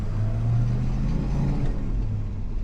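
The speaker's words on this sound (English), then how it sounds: "This is a cool little car, man." A 1966 Plymouth Barracuda driving in low gear, its engine giving a steady low rumble and whir heard from inside the car, with no talk.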